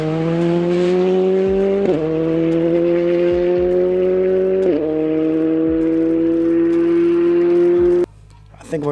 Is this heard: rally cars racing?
yes